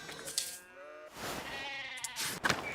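Sheep bleat in the video game Pentiment, two or three drawn-out, wavering bleats heard close and clear, one after another.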